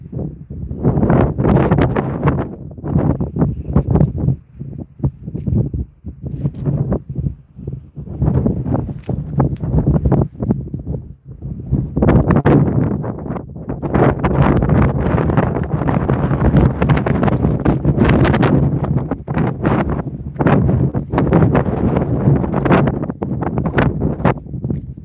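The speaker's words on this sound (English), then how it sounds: "This wind is crazy." Strong outdoor wind buffeting the microphone near a skoolie parked by mountains, loud continuous roaring gusts that surge and drop throughout, with no talk heard.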